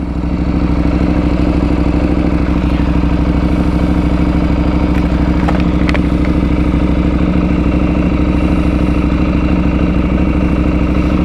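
KTM 790 Adventure R motorcycle with an aftermarket exhaust pipe idles loudly and steadily at close range, a constant deep throbbing rumble with no talk over it.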